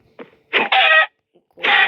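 Chicken clucks come in short bursts, three separate calls with a brief gap between them, close by and fairly loud, with no other sound around them.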